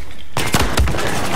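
A single loud sniper rifle shot in Battlefield 4 cracks sharply after a brief quiet, followed by a rolling echo and a second boom as the report decays, with no talking.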